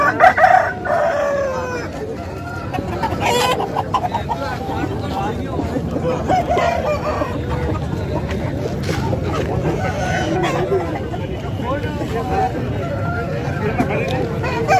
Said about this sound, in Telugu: కోడి.